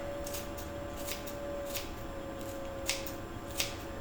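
Fresh chives snipped into a dish of twice-baked potato filling in a home kitchen, a series of light, crisp cuts at an uneven pace, close by and quiet, with no voices.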